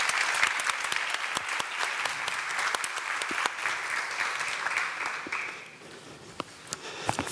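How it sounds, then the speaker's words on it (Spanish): A crowd applauds steadily at a care conference workshop, loud and dense clapping that fades toward the end, leaving a few scattered claps. "Un aplauso para ella."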